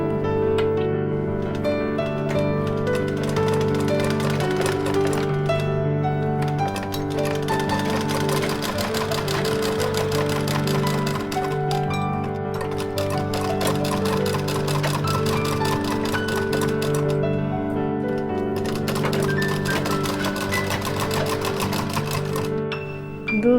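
A sewing machine stitches fabric for a small Laddu Gopal ghagra, its motor humming and needle pattering in a continuous, even run for over twenty seconds, close and loud with no talking.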